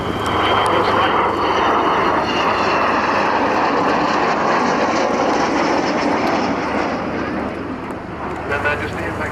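A 1960 Avro Vulcan bomber's jet engines roar at the RAF Cosford air show, a loud, sustained broadband rumble that holds steady, then eases slightly near the end, with announcer talk running over it.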